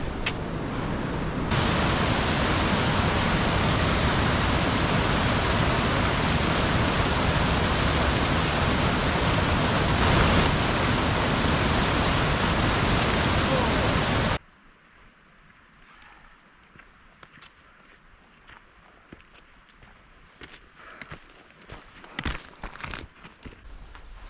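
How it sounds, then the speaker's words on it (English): Steady hiss of heavy rainfall in the Dolomites mountains, loud and dense, cutting off abruptly partway through to a much quieter background with scattered drips and light taps. "So it is raining again."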